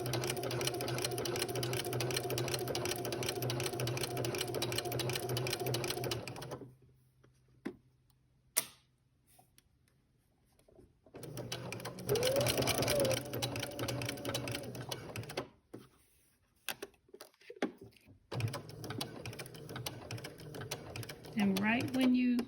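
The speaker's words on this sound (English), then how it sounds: "we're going to go to the sewing machine and we're going to stitch from the edge of the dart down to the tip" A sewing machine runs steadily while stitching a dart on a maxi dress made from a Simplicity 8874 pattern, whirring loudly for several seconds, pausing, then resuming in short bursts with brief stops.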